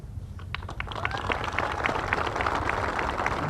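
A crowd at a local community event applauds, scattered claps building into steady, moderately distant clapping that holds to the end.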